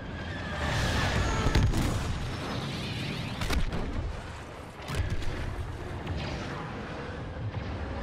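Explosions and booms sound through a dense roar of engine noise and effects during a starfighter battle in Star Wars Battlefront 2, with a few stronger blasts standing out.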